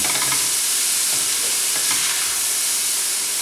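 Chopped white button mushrooms fry and sizzle in a pan over medium-low heat while being stirred, giving a steady close hiss with faint scraping throughout.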